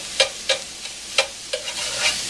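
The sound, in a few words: ground meat frying, broken up with a whisk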